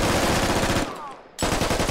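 Gunfire in the video game Squad Ops: sustained, loud automatic fire that drops away briefly and then resumes just as dense and close.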